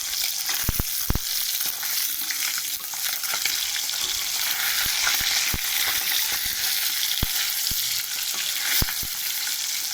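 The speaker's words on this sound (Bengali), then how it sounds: "তো আমি এক এক করে মাছগুলো উল্টাবো।" Fish pieces frying in hot oil in a pan, a steady close sizzle with sharp clicks and taps of a utensil as the pieces are turned one by one.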